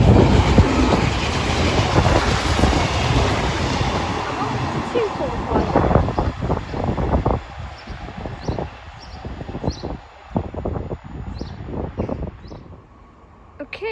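A Transport for Wales Class 142 diesel unit passes through Treforest station in the South Wales Valleys, a loud roaring rumble with wheel clatter and clickety-clack over rail joints fading as it goes, with wind buffeting the microphone.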